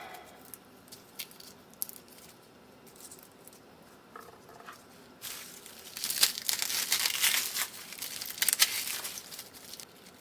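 Papery skin being peeled off garlic heads makes faint, scattered crinkles and tears at first, then a denser, louder burst of crackling rustles near the end.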